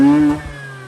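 A 2004 Mazda RX8 rotary engine holds a loud, close, high-pitched rev for a moment, then the tone drops away as it comes off the throttle.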